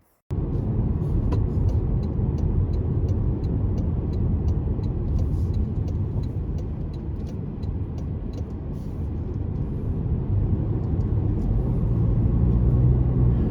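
A car drives along a road toward a roundabout on a driving exam route near Oslo, heard from inside as a steady low engine and tyre rumble throughout, with faint clicking above it and no talking.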